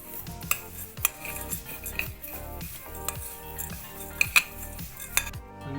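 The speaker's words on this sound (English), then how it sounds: "Now mix everything." A utensil stirs oatmeal cookie dough with seeds in a bowl, making rhythmic scraping strokes and occasional sharp clinks against the side, fairly quiet and close, with no voices.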